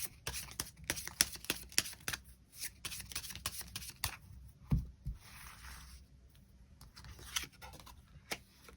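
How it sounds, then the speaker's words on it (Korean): Tarot cards are shuffled and drawn in a quick run of crisp riffles and slaps, several close together at first, then sparser flicks and a soft thump as cards are laid down, with no one talking. "추가 카드 뽑아보도록 하겠습니다"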